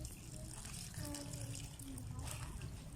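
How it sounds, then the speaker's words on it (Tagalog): Water running into a tub set up for mermaid play, a steady rushing pour with splashing and low rumble, while someone talks quietly over it. "dadagdagan natin po ng tubig kung lalo"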